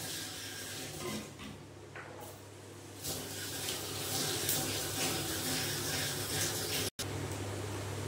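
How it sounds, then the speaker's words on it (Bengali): Whole cumin seeds tempered in hot oil for a Bengali potato and borboti (long bean) curry, a steady close frying hiss and crackle that holds throughout with a brief dropout near the end. "এইবার ওই তেলের মধ্যেই আমি এই গোটা জিরে ফোড়ন দিয়ে দেবো"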